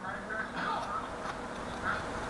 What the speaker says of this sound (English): my phone is ringing with that very